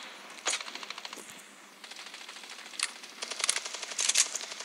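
Rapid automatic gunfire in a shooter video game, several close bursts of fast crackling shots separated by short pauses.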